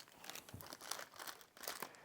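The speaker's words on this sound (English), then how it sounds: "rain poncho and couple of emergency blankets" An emergency blanket crinkles and rustles close up, with steady crackly bursts over about two seconds and no talking.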